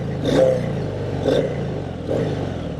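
A Harley-Davidson Heritage Classic 114 motorcycle engine revs in three short bursts, the exhaust rising and falling between throttle blips, close and fairly loud.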